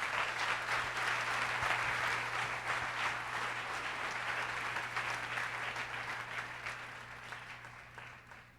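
A church congregation applauding during a Sunday service, a steady wash of many hands clapping together that holds throughout and slowly fades toward the end.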